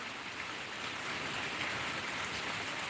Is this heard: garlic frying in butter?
no